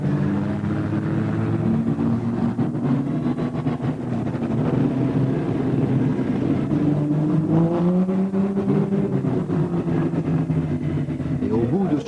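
Rallycross race car engines roar continuously, with rising and falling pitch as cars pass, under French commentator talk, at Lohéac in 1991.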